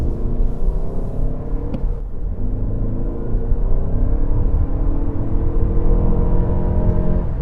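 A 2024 Toyota Grand Highlander Hybrid SUV taking a series of corners gives a steady, loud, low cabin rumble of road and drivetrain noise, with a brief whir near the start and no talk.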